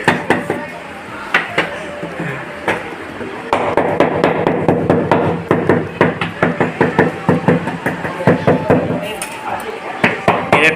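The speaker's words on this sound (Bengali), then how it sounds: "এবার মিস্ত্রি মশাই হাতুড়ে একটু ঠোক দিচ্ছে" A hammer taps a marble floor tile down into a bed of cement and powdered cement in a home, making a long series of sharp, irregular knocks close by, with faint voices in the background.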